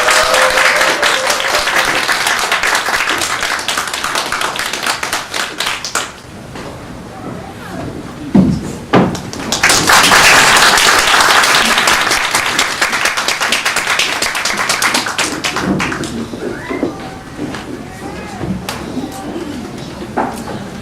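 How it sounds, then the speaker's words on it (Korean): An indoor audience claps loudly to welcome two speakers to a lecture, a long burst of applause that fades, then swells again before trailing off, with a voice speaking during the quieter stretches. "두 분 모실 때 큰 박수로 환영해 주시면"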